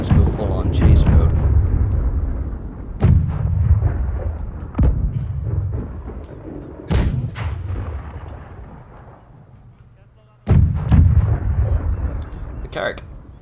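Heavy ship cannon broadsides boom out in a naval battle video game, a series of loud, close blasts spaced a few seconds apart, each with a rumbling decay and a quieter lull before a final burst.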